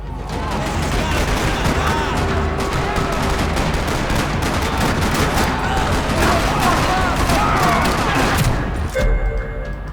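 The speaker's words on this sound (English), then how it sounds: "Another parking lot rattling with gunfire." Dense, sustained gunfire rattles through a parking lot in the Max Payne 3 video game, with rapid overlapping shots and bursts running almost nonstop at loud volume for nearly the whole stretch.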